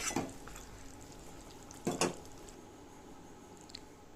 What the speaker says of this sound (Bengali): একে একে সব পাঁপড়গুলোকে দিয়ে দিলাম সামান্য হালকা হাতে নেড়ে চেড়ে দেবো